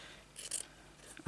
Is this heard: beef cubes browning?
no